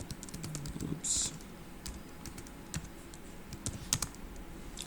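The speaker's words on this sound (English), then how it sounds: "It's a new keyboard, so I just need to get used to it." Typing on a new computer keyboard: quick, uneven key clicks and taps over a few seconds, with faint talk in the background.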